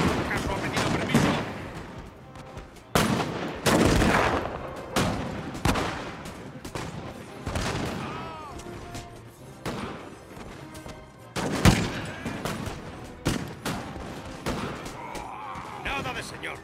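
Musket volleys in a video game battle between Walloon Guards and Prussian Foot Guards, a series of sharp, loud crackling gunshots and rolling fusillades spread across the clip, with voices shouting between them.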